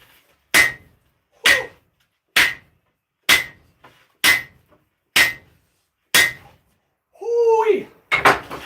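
Heavy hammer blows ring on hot steel while forging a huge Dragon Slayer sword replica, seven evenly spaced loud metallic strikes with sharp decay, followed by a brief scraping sound and two quicker hits at the end.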